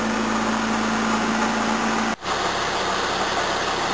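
A Toyota 18R-C engine idles after a cold start, just off choke, a steady loud mechanical drone with a constant hum that briefly dips midway before settling back into an even idle, with no talking.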